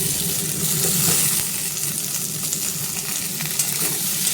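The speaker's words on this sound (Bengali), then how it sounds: "আগে আলুটাকে ভেজে নেব" Potatoes fry in hot oil in a pan, a loud, close, continuous sizzle with light stirring scrapes and no talking.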